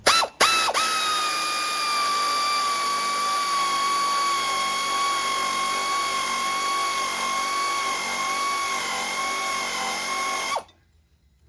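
A power tool tightens the lower control arm bolts on a 2003-2007 Honda Accord, giving one steady, close, high whine that runs for about ten seconds and then cuts off abruptly, with no talking.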